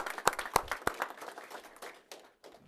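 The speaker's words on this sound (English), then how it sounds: "I would very much like to give a round of applause to those who support our autistic community" Audience applause at a county board meeting celebrating autism awareness, a burst of sharp claps that starts loud and thins out over a couple of seconds, fading to scattered hand claps.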